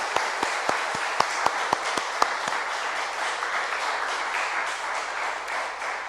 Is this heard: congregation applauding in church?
yes